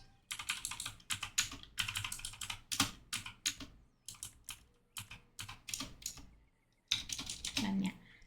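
Computer keyboard keys clatter in quick bursts of typing and shortcut presses while modding the PC game GTA V, close and crisp with brief pauses between runs of keystrokes.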